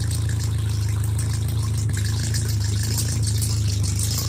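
A 2010 Chevy Colorado engine runs steadily after starting, with its exhaust pipe off: a loud, constant low idle rumble with a rattly edge, close and alone.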